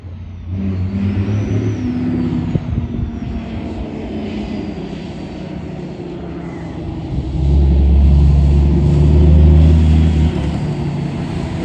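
A cab-over semi truck rumbles nearby with a deep, loud engine drone that swells into a heavier, revving roar partway through and then eases off.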